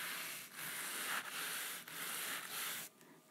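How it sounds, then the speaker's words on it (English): A shoe brush buffs leather shoes in quick, even back-and-forth strokes, a close, soft, raspy scrubbing with short pauses between about five passes, and no talking. "I'm gonna wake this leather up by buffing it"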